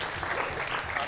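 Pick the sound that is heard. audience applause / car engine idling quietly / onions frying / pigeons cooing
audience applause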